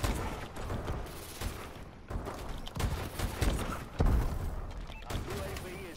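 Gunfire from the video game Call of Duty: Advanced Warfare comes in repeated rapid bursts and booms over a noisy game mix, with a player talking over it.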